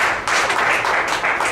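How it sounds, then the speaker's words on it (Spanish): A church congregation breaks into loud, dense applause, many hands clapping steadily and close throughout with no voices standing out. "Den un fuerte aplauso"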